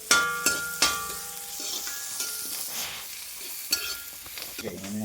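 Ginger frying in a pan and being stirred, with sharp utensil clinks against the pan over a continuous sizzle, close up, and a brief sound of movement near the end.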